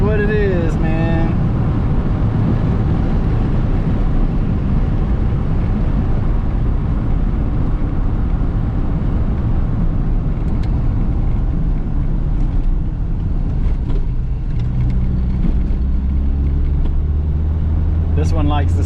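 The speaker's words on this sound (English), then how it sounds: "I'm sure you're getting a little bit of wind noise" Steady roaring wind and road noise fill the cabin of a 1988 Mazda 323 with a manual transmission while driving, loud and continuous throughout, with a low engine drone underneath.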